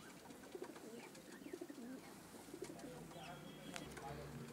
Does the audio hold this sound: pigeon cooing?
yes